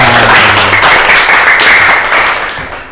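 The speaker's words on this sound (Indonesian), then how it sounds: "tepuk tangan dulu untuk kita semua" A classroom group of students bursts into brief, loud applause, dense clapping that fades slightly toward the end.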